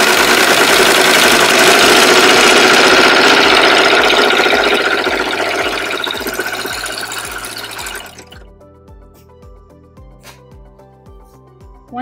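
A serger sewing machine stitches fabric for a snack bag, whirring loud and close for about eight seconds. It then slows and stops, leaving faint mechanical clicks.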